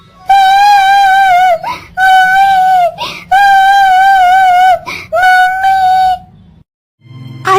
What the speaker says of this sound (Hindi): यहाँ पर तो कोई किसी बच्ची की रोने की आवाज आ रही है